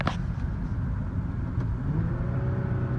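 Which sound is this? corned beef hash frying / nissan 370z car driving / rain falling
nissan 370z car driving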